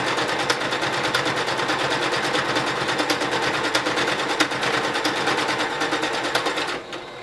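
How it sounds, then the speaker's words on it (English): A sewing machine runs a decorative stitch on fabric for a face mask, a steady rapid mechanical chatter that continues without pause and stops abruptly near the end. "I'm using a decorative stitch to do this stitch work, and I'm getting ready to start right now."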